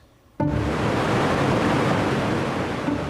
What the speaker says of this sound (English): The calming waves of the California coast.